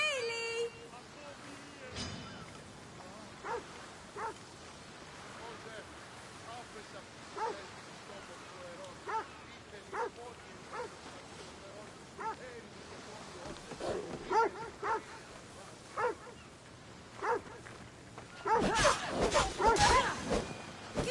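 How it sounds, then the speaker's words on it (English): Dog in the video game Assassin's Creed Odyssey, barking, yipping and whimpering in short bursts across the scene, with scattered impact-like hits and a louder flurry of attack noise at the end, mixed with game speech. "that dog decided to attack me"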